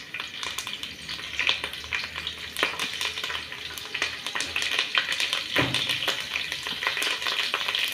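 Curry leaves frying in hot oil for a Telangana-style fish curry, with a bright, close, continuous sizzle and crackle and occasional stirring scrapes, without any speech.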